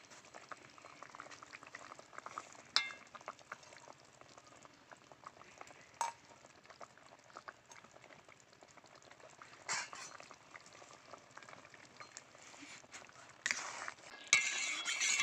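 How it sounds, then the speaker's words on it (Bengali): Rui fish curry with potatoes simmering in a pot, a steady close bubbling boil running throughout with occasional clinks and stirring scrapes of a utensil against the pot. "ঝোলটা ভালো করে ফুটে গেছে, এবার মাছগুলো দিয়ে দেবো।"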